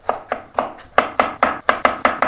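A knife dices potatoes into cubes on a cutting board, with about ten sharp, close chops in a quick, slightly uneven rhythm.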